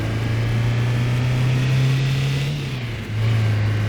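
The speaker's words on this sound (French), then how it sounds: "On va accélérer là." A car in the driving simulator City Car Driving accelerates, its engine holding a loud, steady hum that climbs slightly before a brief dip and resumes as gears shift.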